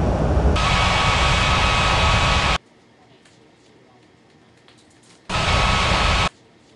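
A jet airliner in the video game Unmatched Air Traffic Control gives two loud bursts of engine roar on landing, about two seconds and then one second long, with quiet gaps between them.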